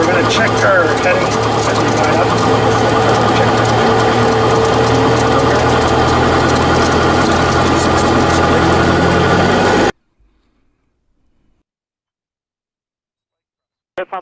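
Steady drone of a Cessna 172's piston engine heard from inside the cabin, loud and continuous for about ten seconds before cutting to near silence.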